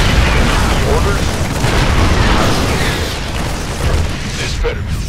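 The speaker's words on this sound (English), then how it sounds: "Let's get some siege tanks deployed on the high ground. They can pound that Protoss Stalker before it even gets close to us" StarCraft 2 siege tanks deployed on high ground fire on a Protoss Stalker, a loud, continuous wall of booming blasts and explosions, with game unit voices speaking over the barrage.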